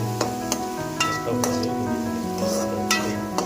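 Two cracked eggs frying for egg poriyal in a pan, a steady close sizzle with light scraping and stirring clicks at intervals.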